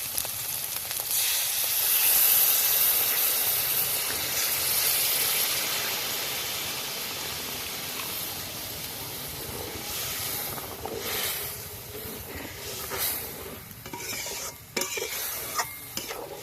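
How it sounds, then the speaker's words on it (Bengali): Coconut milk hits hot, well-fried spices for an egg malai curry, giving a loud, bright sizzle at first that settles into steady frying, with a spoon scraping and clanking against the pan as it is stirred. "এবার আমি দিয়ে দেব নারকেলের দুধ।"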